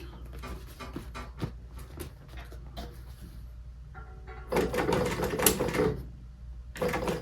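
A sewing machine stitches upholstery for the center armrest console of a 1991 Lotus Esprit, giving short rapid mechanical bursts close by. Brief stitching runs are separated by pauses, and a longer buzzing run comes near the end, with no talking.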